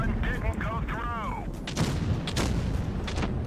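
Tank cannon fire from World of Tanks Blitz booms in a few sharp shots among game effects, with a voice talking during the opening part.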